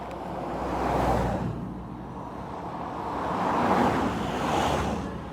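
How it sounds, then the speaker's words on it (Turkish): A cluster of cars drives past on a road near Ahmetbeyli, Claros and Notion in Turkey, their tyre and engine noise swelling twice as each wave of vehicles approaches and fades, with no talking. "Yine kalabalık bir araba grubu geliyor."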